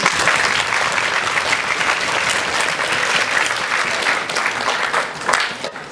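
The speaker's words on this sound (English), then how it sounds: "You all deserve a round of applause." Loud, steady audience applause after questions at a science-versus-humanities debate, a thick continuous clapping from a crowd that carries through the whole stretch and dips slightly at the end.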